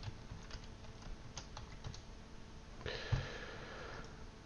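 Password being typed on a computer keyboard at a workstation, a quiet run of light key taps with a brief louder burst of rustling and a thump near the end; no talking.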